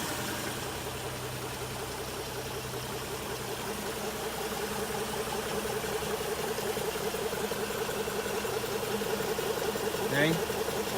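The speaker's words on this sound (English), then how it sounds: "Listen to that engine, just purring." A 1960 Ford Falcon XK with original mileage idling after its first start in a year, a steady low rumble throughout with a faint brief squeak near the end.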